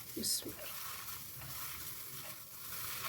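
Chicken is stirred into a shami kabab mixture in a hot pan, giving a soft, continuous sizzle with a few faint scraping stirs near the start, close up and fairly quiet.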